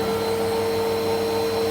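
A Hoover or Bissell upright vacuum cleaner runs at full power, giving a loud, unbroken motor drone with a steady high whine on top. It sounds close and constant, with no talk.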